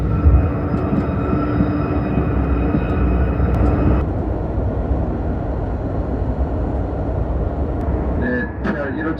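Inside a KTX/SRT high-speed train entering the Suseo–Pyeongtaek high-speed line, a loud steady rumble and rushing hum fill the cabin, with a faint tonal whine that drops away partway through.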